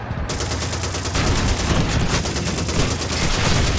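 Sustained enemy machine gun fire from a Call of Duty 2 battle, a dense, loud, continuous rattle of rapid shots with overlapping gunfire throughout, no pauses.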